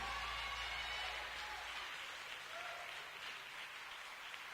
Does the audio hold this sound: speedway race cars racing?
no